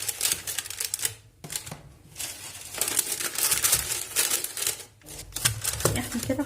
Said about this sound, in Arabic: وهنحط فيها كده ورق زبدة